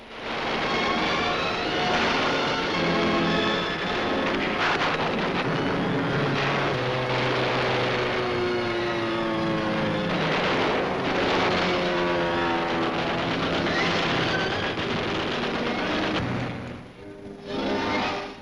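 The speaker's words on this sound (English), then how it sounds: "United Nations jet planes searching out targets far behind the communist lines and strafing them" United Nations jet planes strafing targets far behind communist lines in Korea roar loud and steady, with a whining, rising-and-falling engine tone and a brief dip near the end.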